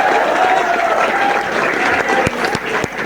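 Applause from the crowd at a Hindi comedy poetry gathering in Mathura, a dense, loud, continuous clapping that holds steady for about three seconds, with a few sharper single claps near the end.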